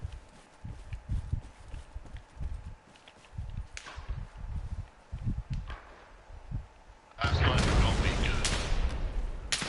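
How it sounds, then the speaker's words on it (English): Heavy .50 cal machine guns fire through a tree line in the video game Arma Reforger, starting as scattered thumping bursts and swelling into a loud, sustained roar of gunfire near the end. "shooting through the tree line with the 50 cals"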